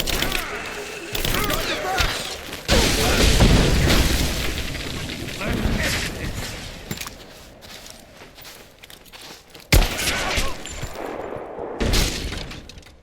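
Gunfire and heavy booms in the video game Rise of the Tomb Raider, loud and chaotic, with bursts of impacts and a sharp blast near the end, mixed with game voices and background combat noise.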